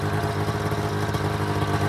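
A steady, close motorcycle engine idle from an XC700 with 800 miles on it, a low, even rumble with light mechanical clatter running without a break.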